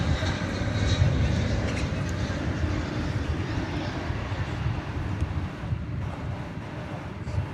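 A Kalitta Air Boeing 747-400 rumbles past as a broad, wind-buffeted roar, loudest early and easing slightly, heard at a distance with faint voices in the background.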